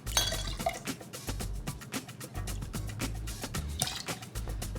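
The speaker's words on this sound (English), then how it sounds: "Give it a little stir." A mojito with thyme and rum stirred in a glass, close and fairly quiet, with rapid uneven clinks and taps of a spoon against glass and ice throughout.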